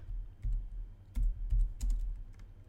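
Computer keyboard keys clatter in short uneven bursts as Java code is typed, a few isolated taps and quicker clusters, close and fairly quiet with no talking.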